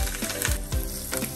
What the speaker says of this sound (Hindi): इसमें राई, हींग और करी पत्ता का तड़का लगाकर कोकोनट चटनी में डाल दे।